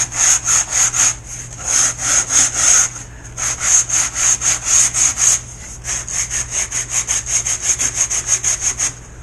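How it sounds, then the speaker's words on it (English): Sanding block rubbed over soft foam while shaping a Zippkits G30 tunnel model part, a close, steady scratchy rasp in rhythmic back-and-forth strokes, several quick bursts with short pauses between, no talking. "if you've never sanded foam before, it sands really easy"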